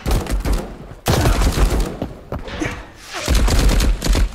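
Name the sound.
gunfire from players in the video game Marauders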